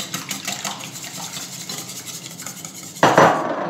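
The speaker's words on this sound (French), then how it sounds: "Bien fouetter le mélange." Eggs and cream mixture whisked for a leek flamiche, with a rhythmic metallic clinking of whisk against bowl, moderately loud and steady, then a sharper clatter near the end.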